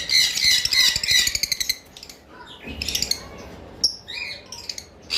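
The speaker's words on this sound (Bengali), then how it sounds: "সাদা লাভবার্ড, হোয়াইট ফিশার, দেখতে পাচ্ছেন" White Fischer's lovebirds, a pair, give repeated harsh squawks and chirps close by, loud bursts with short pauses between them.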